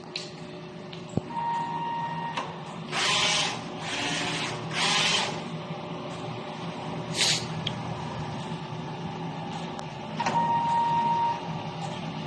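A DTF printer runs a heat clean of its print head with an ink tank system, producing a low steady motor hum broken by several swishing mechanical bursts and short whirring tones.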